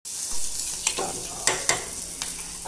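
A spoon stirs green chili curry with cream and spices in a hot pan, giving a steady close sizzle broken by several scraping clinks of the spoon against the metal.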